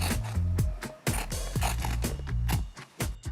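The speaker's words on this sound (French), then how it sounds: "Je coupe ma toile blanche." White cotton fabric being cut for stool upholstery, with a series of close, crisp snipping and rustling strokes in an uneven rhythm, no voices.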